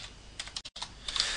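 Keys on a computer keyboard tapped to type a state into a form box, a short run of close, fairly quiet clicks with a brief break and a faster cluster at the end.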